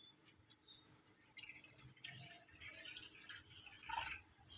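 Cold water is poured into a bowl to test whether eggs will cook in 43-degree heat: a faint, close trickle and drip of water that runs for several seconds.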